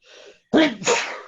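A single sharp sneeze, preceded by a soft inhale, close and clear with no talking.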